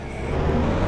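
A car driven in the Roblox game Pembroke Pines Florida gives a steady, close engine drone with road rumble, holding constant throughout with no voices.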